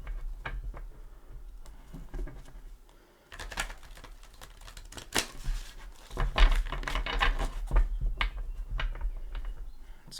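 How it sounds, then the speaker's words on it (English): Tarot card deck being shuffled, a soft, dense run of papery riffles and taps lasting several seconds, fairly close, with a brief pause partway through and no talking. "We're going to go ahead and give it a couple shuffles"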